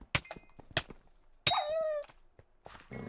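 Dogs in the Minecraft Hypixel SkyBlock video game give short, sharp game barks and yips, one drawn-out whine in the middle, spaced among thuds and other game noises.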